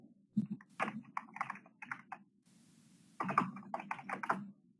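Quick bursts of typing on a computer keyboard, close and crisp, in two clusters of rapid key clicks separated by a short pause, with no talking.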